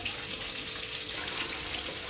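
Hand dipping and sloshing in a basin of hot water in a home kitchen, a continuous close watery splashing and trickling throughout, with no speech.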